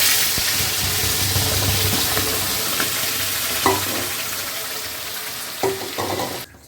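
Ground cabbage paste mixed with coriander leaves and green chilli hits a hot pan with a loud, continuous sizzle, a few scrapes and stirring knocks, then cuts off abruptly at the end.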